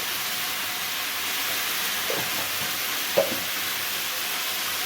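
Ginger-garlic paste, turmeric and spices frying in a pan, a steady close hiss and sizzle with a couple of soft stirring scrapes.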